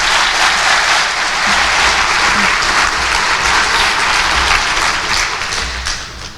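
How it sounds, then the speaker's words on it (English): An audience at a commencement ceremony gives the staff a loud, continuous round of applause, many hands clapping together in a thick, steady wash that holds for several seconds. "So give the staff a round of applause"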